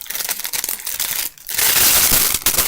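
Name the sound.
rustling plastic packaging of tissue bag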